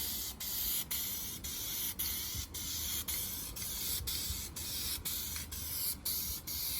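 Dupli-Color vinyl and fabric paint is sprayed onto a suede race seat, a steady close hiss with faint regular pulses running throughout.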